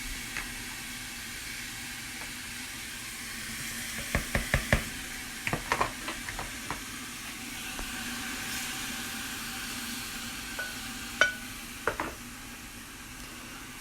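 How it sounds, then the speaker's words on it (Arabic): Goat meat and potatoes dropped onto softened onions in a hot pressure cooker, giving a steady low sizzle with a cluster of sharp knocks and clatters in the middle and a few more toward the end. "ننزل البطاطس فوقه واللحم"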